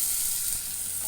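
Chicken pieces hitting a hot curry pan, a brief steady hiss of frying, close and moderately loud, with no talking.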